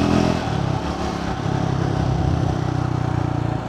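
A Triumph Scrambler 400 motorcycle cruises at low speed along a side road, its steady engine drone close and continuous with a slight clattering pulse, no voice over it.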